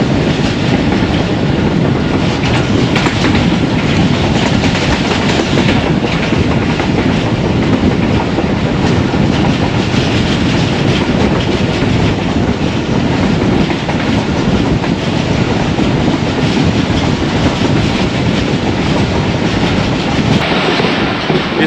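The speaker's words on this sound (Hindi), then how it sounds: "वज़ीराबाद जंक्शन पहुंच रही है ट्रेन" The 101UP Subk Raftar passenger train runs on the Khanewal–Wazirabad branch line near Wazirabad Junction, a loud, steady roar and rumble of wheels on rails heard from on board, continuous with no voices.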